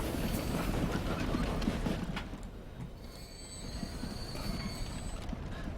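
A train pulls into a station in Transport Fever, rumbling loudly with rolling rail noise and thin high wheel squeals that rise and fade as it slows.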